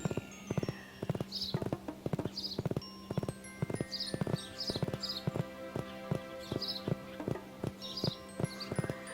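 Horse hooves clip-clopping in a horse riding video game, a steady run of sharp, evenly spaced hoof hits over a faint background tone, with no talking.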